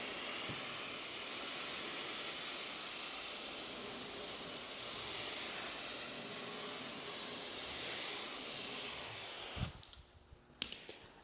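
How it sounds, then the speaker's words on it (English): Steady, close hiss of a water spray rinsing suds off a car tire, running unbroken for most of the stretch before cutting off near the end, followed by a few drips and small knocks. "when I'm rinsing and I see that the water's clear when it's being rinsed off the tire"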